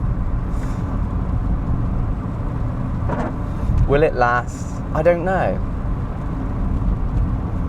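A restored Audi Coupe GT without ABS on its first drive, its engine and road noise a steady, close rumble throughout while someone talks over it.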